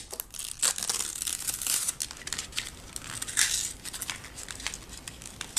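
Plastic packaging of a Cushi Skin silicone case for the iPhone 4/4S is torn open close by, with continuous crinkling, crackling and tearing and a few sharper rips. No one speaks.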